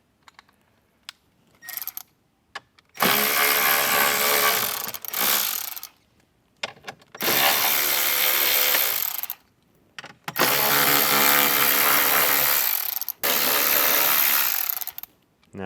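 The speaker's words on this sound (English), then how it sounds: "So let's get these screws out first." Power driver spinning screws out of a speaker panel on a 2024 Jeep Wrangler JL, Phillips and 7 mm fasteners, in three long loud whirring bursts with brief clicks and pauses between them, close up and with no talk.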